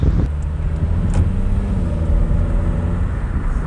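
A modified car engine runs steadily while the car is driven with manual shifting, a continuous low engine drone and rumble filling the whole stretch with no talk over it.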